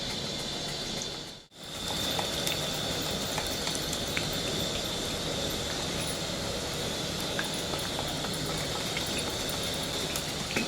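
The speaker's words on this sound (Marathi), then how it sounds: "अशा पद्धतीने आपल्याला केळीचे चिप्स डायरेक्टच तेलात सोडायचे." Banana chips dropped straight into hot palm or refined oil give a steady, dense sizzle and crackle of frying that runs on evenly after a brief dip near the start.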